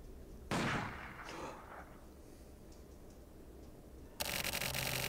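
A single sharp gunshot bursts out in The Silver Case, followed by a decaying echo and a low ambient hum, with a second harsh burst of noise near the end.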